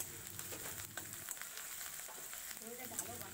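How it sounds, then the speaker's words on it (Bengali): Ground onion paste fries in mustard oil with bay leaf, cumin and whole garam masala and is stirred, making a soft, fairly quiet sizzle broken by light scraping clicks. "তারপরে বেটে রাখা পেঁয়াজ দিয়ে একটু নাড়াচাড়া করে নেব।"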